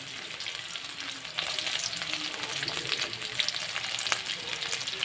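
Mustard seeds, onion and grated coconut fry in a tempering pan with a steady, close crackling sizzle that grows louder after the first second and runs unbroken, with occasional stirring scrapes and no talk.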